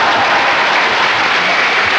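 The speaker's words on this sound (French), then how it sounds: "On l'applaudit." Dense, steady audience applause fills a convention hall during a comedy talk at Polymanga 2015, loud and continuous throughout with no voices standing out.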